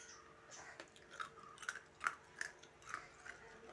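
Someone crunches an ice cube between the teeth, a string of sharp, close bites at uneven intervals, fairly quiet, with no talking.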